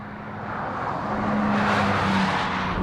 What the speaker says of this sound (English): This is an engine that has given me a true love affair with BMW straight 6.